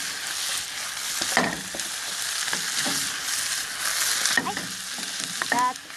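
Eggplant and green peppers stir-fry in a pan for a miso dish, with a constant close sizzle broken by scraping, tossing clatters of a utensil against the pan.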